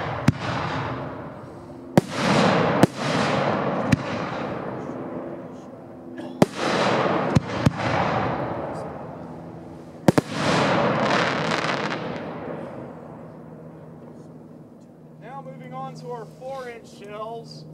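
Three-inch aerial firework shells from a Dominator Prestige A2 assortment go off at night in a pyrotechnics demo, several sharp launch thumps and loud bursts followed by long crackling, rumbling tails, with a whistling or screaming effect near the end.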